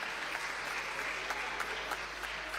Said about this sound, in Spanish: creo que aplauden